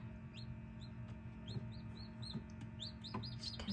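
A newly hatched chick gives repeated small, high chirps in quick bursts, faint and close, with no one speaking.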